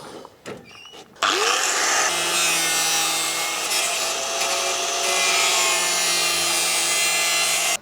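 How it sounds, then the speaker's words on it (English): A power cutting tool grinds steadily through a section of car body steel on an E36, a harsh continuous rasp after a brief quieter start, close and loud. "cutting this bit of steel out gives me a little bit more room around here"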